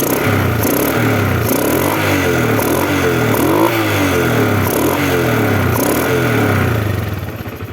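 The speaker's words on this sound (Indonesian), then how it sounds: "Sekali gas langsung bunyi ya." A 2005 Suzuki Smash motorcycle engine revved repeatedly, loud and close, with rhythmic rising-and-falling throttle blips over a steady idle, several revs in a row before easing off at the end.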